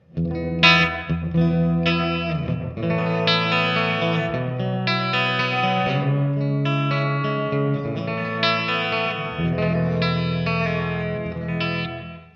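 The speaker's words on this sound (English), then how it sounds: "gives you a little bit more of a realistic type of reverb" Sustained electric guitar chords ring out through a Wampler Reflection reverb pedal, notes blurring into a lush washing tail, played steadily with no talking.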